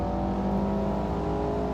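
Steady engine drone of a race car in the Assetto Corsa video game, a close, constant whirring note holding level throughout the short stretch without voices.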